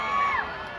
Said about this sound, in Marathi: टाळ्यांनी त्यांचा जल्लोष वाढवायचा स्वागत करायचंय